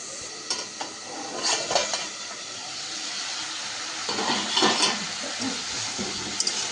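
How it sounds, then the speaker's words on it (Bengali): Pumpkin and potato sautéing in a very hot wok, a steady broadband sizzle with scattered scrapes and clinks of a spatula against the pan, louder bursts of stirring near the middle and end, close and with no talking. "ওদিকে কিন্তু কুমড়োটা কড়াইতে রান্নার জন্য দিয়ে দিলাম, একটু কষানো চলছে"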